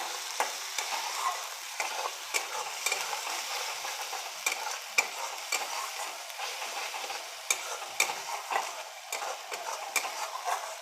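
Spice paste fries in oil and is stirred steadily, a soft continuous sizzle punctuated by regular scraping clicks of a spoon against the pan.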